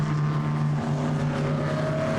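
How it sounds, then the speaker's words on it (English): A vintage race car at Donington, driven by Neil Twyman, powers out of Coppice corner and accelerates away past the camera, a loud, steady engine drone holding close and continuous. "Neil Twyman through Coppice corner just as he accelerates away past the camera there"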